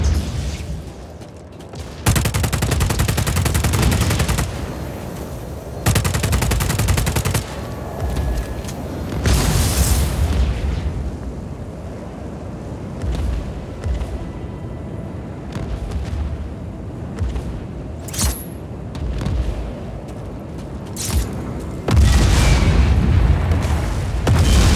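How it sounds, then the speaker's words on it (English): Repeated grenade launcher blasts in the video game Just Cause 4, several loud booming explosions a few seconds apart with rumbling tails and scattered smaller pops between them. "Grenade launcher."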